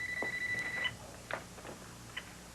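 A phone ringing indoors, a steady electronic tone for nearly a second followed by short faint beeps, moderately quiet against background noise.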